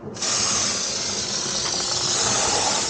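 Spray foam gun purging cleaner through its nozzle during cabin insulation work, letting out a loud, steady close hiss that starts abruptly and runs unbroken with no talk.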